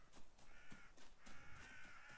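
Crows caw repeatedly in the video game Reka, a series of harsh, rasping calls in quick succession, fairly faint and heard alone without talk.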